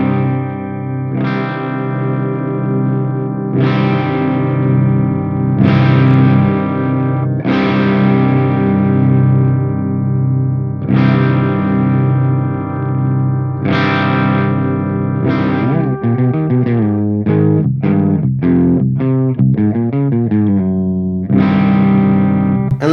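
Electric guitar through a Mesa Recording Preamp Rectifier plays heavily distorted, saturated chords and palm-muted riffs, with sustained ringing hits breaking into quick choppy chugs, loud and up close with no talk.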